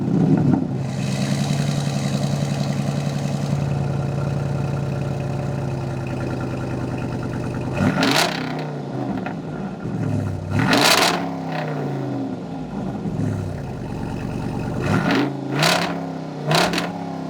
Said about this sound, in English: This is just the SRT V8 Hemi. Still puts a lot of power down for that all-wheel drive system in a Wrangler